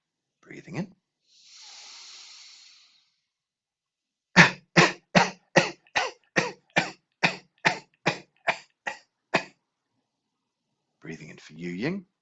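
A breathing-exercise class sounds out a sharp burst, then a soft hiss of breath, then a steady run of about fourteen short, evenly spaced voiced cough-like pushes, close and clear, with a last scrappy burst at the end.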